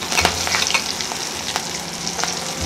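Curry leaves, turmeric, asafoetida and spices sizzle loudly in hot oil for misal, a dense continuous crackle with scattered sharp pops close up.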